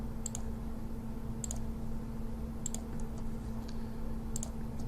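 A computer mouse clicks four times at roughly even intervals, crisp and close over a low steady hum, with no talking.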